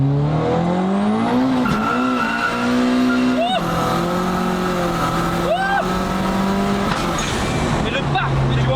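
A tuned Peugeot 306 of 550 horsepower revs hard while tires squeal and spin for several seconds, the pitch rising and falling, with people talking over it.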